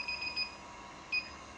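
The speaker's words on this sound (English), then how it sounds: "It's automatically going to alarm, and you're going to think there's a leak, but there's not." A refrigerant leak detector sounds its alarm when its sensor tip is held in a mini split unit's airstream, giving quick high electronic beeps, a rapid cluster then a single beep, over a faint steady hum.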